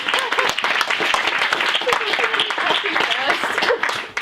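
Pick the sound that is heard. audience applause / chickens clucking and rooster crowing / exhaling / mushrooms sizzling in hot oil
audience applause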